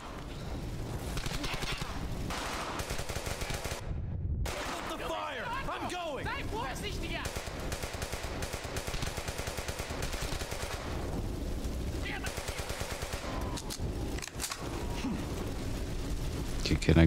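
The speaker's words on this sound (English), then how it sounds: "Shoot him now!" Gunfire in Brothers in Arms: Hell's Highway, a WWII shooter, steady rapid automatic bursts and scattered shots running nearly nonstop, with a brief lull early on, while voices talk over the battle.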